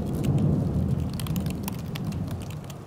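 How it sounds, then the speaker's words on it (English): Low rolling thunder rumbles steadily beneath constant rain, with scattered sharp drips and crackles on top; the storm sounds fairly close and fills the whole stretch without any voices. "Thunder rumbles."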